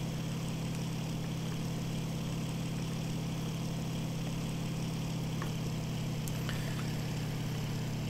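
Aircraft engine running in the IL-2 Sturmovik flight game, a steady droning hum held at an even level throughout with faint clicks above it and no talk.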